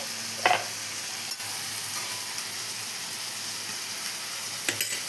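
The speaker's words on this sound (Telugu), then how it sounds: "ఆనియన్స్ వేగుతున్నాయి కదండి" Onions, tomato and ginger paste fry in a pan for a ridge gourd curry, giving a steady low hiss broken by a few sharp clinks and scrapes of a stirring utensil.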